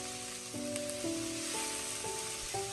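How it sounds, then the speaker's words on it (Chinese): Mushrooms stir-fried in a wok over high heat, with a soft steady sizzle and hiss running throughout, fairly quiet, broken by a few faint regular clicks. "把两种蘑菇表面的水分炒干，同时炒出香味。"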